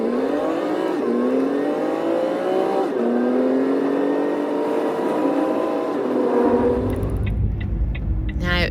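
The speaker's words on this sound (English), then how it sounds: "when I speed the video up, it does make me laugh. Makes it sound like a race car" A vehicle engine in sped-up footage sounds like a race car, a continuous loud whine with pitch rising in stepped climbs through several gear changes, then dropping into a low rumble near the end.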